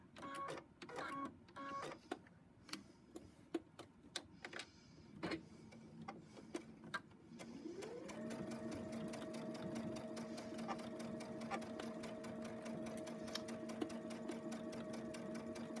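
A sewing machine joins fabric sections of a pinwheel braid, starting with slow irregular taps and stops, then settling into a rapid, steady mechanical whirring stitch run that continues close and clear without talk.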